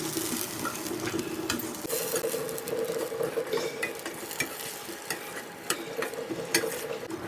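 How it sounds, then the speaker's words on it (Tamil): Mutton sizzles in a hot pan while a spoon scrapes and stirs with irregular metallic clinks, close and moderately quiet, no voices. "அப்போ நம்ம மட்டனை போட்டு இந்த மட்டன் வேக வச்ச வாட்டரை விட்டு நல்லா கொஞ்சம் சுண்ட விடணும்"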